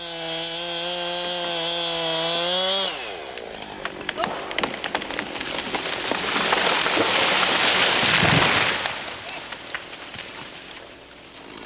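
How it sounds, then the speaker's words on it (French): A chainsaw cuts through the holding wood of a tree during manual felling. A steady, close engine whine runs for about three seconds, then gives way to a loud, broad crackling and rushing roar. "sciez le talon qui retient l'arbre."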